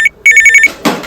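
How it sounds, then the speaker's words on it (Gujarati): A telephone rings with an incoming call: a loud electronic trill, first a short chirp, then a rapid pulsing burst, followed by a brief rustle, with no speech. "એ ફરી પાછો ફોન આવે"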